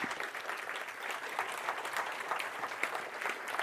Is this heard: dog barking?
no